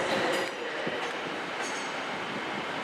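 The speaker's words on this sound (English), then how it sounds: "Here we have a Class 156 terminating from East Kilbride." A ScotRail Class 156 diesel passenger train rolls in close by at Glasgow Central station, a steady rumble with faint wheel clicks and squeals, no voices.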